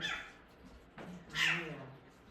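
A recorded owl call plays as a nasal, barking, almost cat-like cry. Two short rising calls stand out, the second louder, over quiet background hiss.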